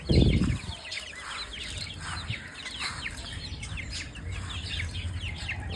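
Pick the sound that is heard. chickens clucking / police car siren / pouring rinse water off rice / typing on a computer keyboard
chickens clucking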